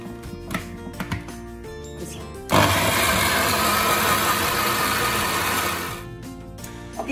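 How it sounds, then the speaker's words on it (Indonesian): An electric food grinder starts abruptly and runs loudly for about three and a half seconds while grinding fish flesh for laksa, giving a dense whirring roar before cutting out, preceded by quieter kitchen clatter. "Isi ikan ni pula kita kisar. Jangan isi terlalu padat sebab nanti mesin dia tak boleh bergerak."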